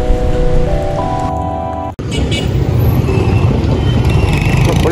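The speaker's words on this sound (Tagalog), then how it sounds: "So yan, maambon-ambon pa yan" Light rain drizzles outside on a street in Dipolog City, a steady hiss of drops on surfaces with a passing vehicle and a brief electronic tone before a short cut, the wash resuming throughout.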